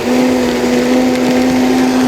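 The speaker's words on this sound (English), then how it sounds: "So this is a variable blender. It's a Vitamix." A Vitamix variable-speed blender whirs steadily while blending agua fresca, a loud continuous motor hum with a strong steady tone and no talking.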